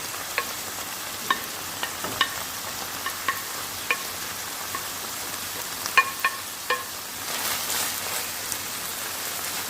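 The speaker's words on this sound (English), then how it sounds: "Now I'm going to add the rest of my veggies, my tomatoes and peppers, and some more of my scallion." Tomatoes, peppers and scallion are stirred into a frying pan for ackee and saltfish, giving a steady soft sizzle with scattered clicks and taps of a utensil against the pan.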